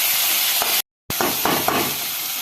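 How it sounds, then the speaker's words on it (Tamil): Chopped tomatoes sauté in a pan for chicken chops, giving a steady close hiss and sizzle, briefly cut off and then resuming, with a few soft stirring knocks against the pan. "இப்போ நம்ம கட் பண்ணி வச்ச தக்காளி சேர்த்து வதக்கலாம்."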